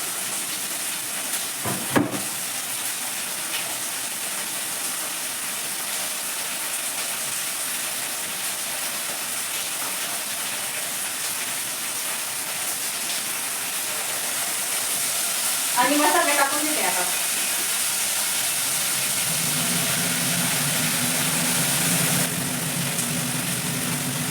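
Bay leaf sizzling in hot oil in a home kitchen, a steady broad hiss throughout with a brief clatter midway and a lower tonal hum near the end, fairly loud and without talk.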